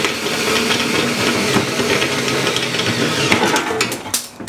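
A Milwaukee power drill with a step bit boring through a metal amplifier chassis, giving a continuous loud grinding, rasping whir with scraping metallic chatter near the end, close up.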